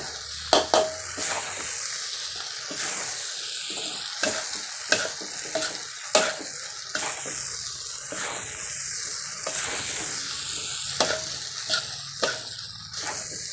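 Rice being stir-fried with oil in a pan in a home kitchen, a continuous sizzle broken by the regular scraping and clacking of a utensil against the pan, close and steady.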